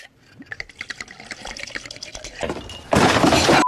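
Vodka poured for a cocktail, two shots: liquid splashes and trickles into a glass, then a louder, sustained rushing pour near the end, close and fairly loud with no talking.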